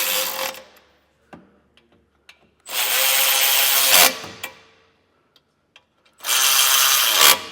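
A power tool whirs on the factory bolts in three sustained bursts, loud and close, with brief clicks and small knocks in the gaps between them.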